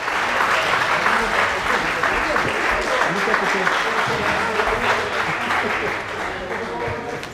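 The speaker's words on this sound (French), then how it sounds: "Le podium des seniors sous vos applaudissements" Applause from an audience greeting the senior podium finishers at a mountain-bike race at Isola 2000, a dense steady patter of clapping with voices mixed in, fading slightly toward the end.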